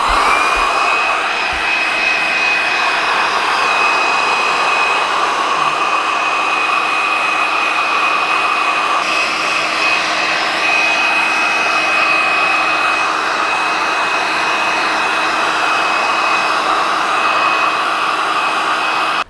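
A heat gun blows a constant loud, steady whine and rush of hot air while shrinking protective wrap onto the fork of a Honda CRF250 dirt bike, unbroken and close, with no talking.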